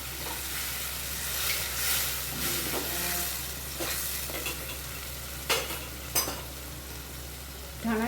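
Garlic paste with red chili and spices sizzles and fries steadily in a pan for a Kathiyawadi sabji, with scraping stirring strokes and a couple of sharper clacks against the pan over a constant frying hiss.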